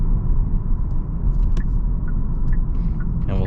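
A tuned 450 hp 2023 Genesis G70 with a 3.3 engine and 8-speed automatic drives in sport mode, making a steady low rumble from inside the cabin with faint ticks and clicks on top.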